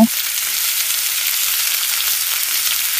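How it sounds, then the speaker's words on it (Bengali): Chicken pieces fry in hot oil in a pan after being flipped to cook the other side, giving a steady, close sizzle that holds evenly throughout with no talking. "এবার আমরা মুরগিটাকে উল্টে দেব এবং অপর পাশ ভেজে নেব।"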